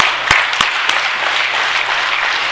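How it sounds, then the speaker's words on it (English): Group applause in a seminar hall, a dense burst of clapping from the audience with a few sharp, louder claps standing out near the start, continuing steadily to the end. "Give him a clap, big clap."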